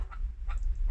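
A captive hunting partridge calls in short, repeated clucking notes, about three quick calls spaced through the second, close by over a low background rumble.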